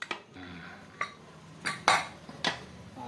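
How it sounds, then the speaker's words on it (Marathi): A metal pressure cooker lid clanks and clinks as it is worked open after the steam has been let out, a handful of sharp separate metallic knocks spread over a few seconds in a quiet kitchen. "झाकण उघडू."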